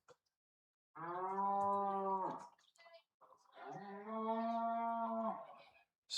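Two long, loud cow moos played as a sound effect at a seniors baseball game, each lasting over a second with a pause between them.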